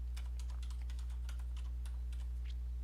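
Computer keyboard keys being typed in a quiet room, a run of light irregular clicks over a steady low electrical hum.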